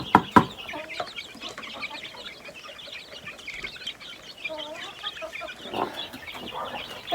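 A flock of chickens clucks continuously at feeding time, with a few louder sharp calls near the start and steady overlapping chatter throughout.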